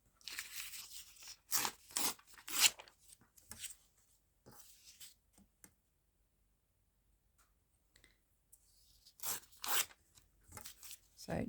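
A paper image is torn out of a botanical catalogue page in several quick, crisp ripping bursts, close and fairly quiet, with a pause of near silence before more tearing.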